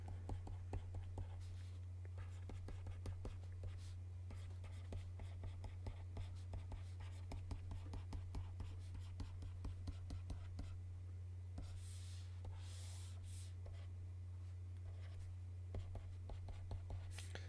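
A pen scratches across a board or paper during a math lecture, making faint, rapid strokes in uneven bursts over a steady low electrical hum, with occasional quiet breathy noises and no clear speech.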